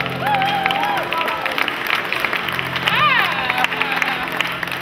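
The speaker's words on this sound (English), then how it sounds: "Let's give a big round of applause for all those that signed the No Meat Pledge" Audience clapping and cheering at a live stage performance, a dense, steady crowd wash with whistle-like voices rising over it throughout.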